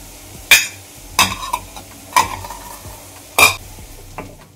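Onions fry on a medium-low flame, a soft background sizzle punctuated by four distinct, evenly spaced stirring scrapes, each loud and close.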